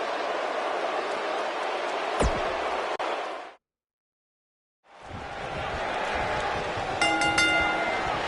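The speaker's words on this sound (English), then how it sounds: "This crowd is absolutely bonkers." A WWE wrestling arena crowd cheers in a dense, loud roar that cuts out abruptly for about a second, then swells back in with a few sharp tones near the end.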